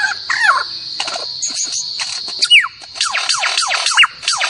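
A mimicking bird plays back a rapid medley of imitated sounds: sharp whistles, buzzy rasps and swooping chirps in quick irregular bursts, loud and close, with no talking.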